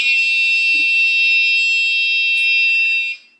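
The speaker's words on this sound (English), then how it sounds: "So we'll put the buzzer back on" A loud, steady electronic alarm buzzer sounds continuously for about three seconds, then cuts off abruptly.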